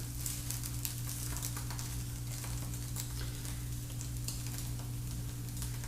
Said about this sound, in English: you'll hear that there's some liquid definitely in there sizzling and popping